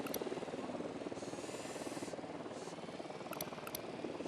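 A drone flies in Ghost Recon Wildlands with a steady whirring, helicopter-like rotor buzz, faint and constant, with a few brief bright clicks over it.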